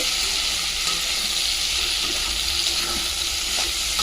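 Cauliflower florets fry steadily in hot oil in a pan, a dense, even hiss of sizzling that holds at a constant loud level with faint crackles and no voices.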